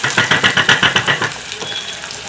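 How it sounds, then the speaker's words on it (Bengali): Chopped onion fries in a pan with a bright, crackling sizzle that pulses in quick rhythmic bursts, likely from stirring, then settles into a softer steady fry. "পেঁয়াজ কুচিটা লাল লাল করে ভেজে নেব।"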